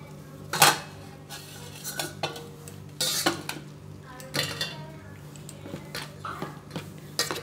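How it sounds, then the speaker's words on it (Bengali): A ladle works fresh chhana with its whey in a bowl for a chhena poda cake, giving sharp metallic clinks and scrapes at irregular intervals, close and fairly quiet, with no talking. "2 মিনিট মতো এরকম হাতা দিয়ে আমি মেখে নিচ্ছি"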